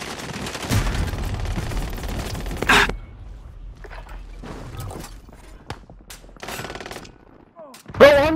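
Gunfire in Call of Duty: Modern Warfare, with loud bursts, sparse single shots and footsteps in between, and brief voices near the end.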